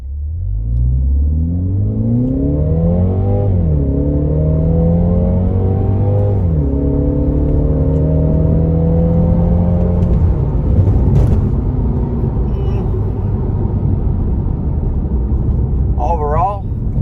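A 2022 Mini Cooper Countryman S All4 engine revs and accelerates steadily in sport mode, its pitch climbing and dropping through gear changes, loud and close with a constant low rumble underneath.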